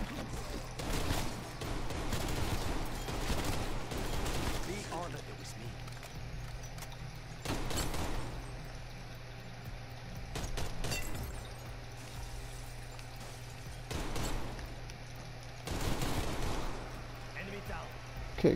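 Bursts of gunfire in Call of Duty Black Ops Cold War zombies mode come in several loud clusters separated by quieter stretches, over a low steady game hum.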